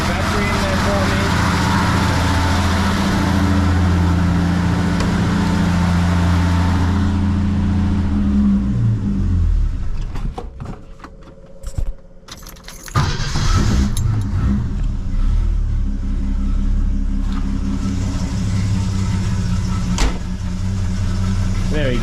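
A Holden LH Torana engine runs close by with a steady, throaty idle, after new hoses, a new radiator and a second-hand battery. The engine sound briefly drops away and wavers in the middle, then resumes strongly.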